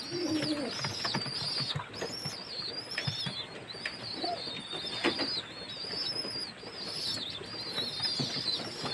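Pigeons coo softly in repeated low calls, with occasional chirps and faint flutters in the background, no talking.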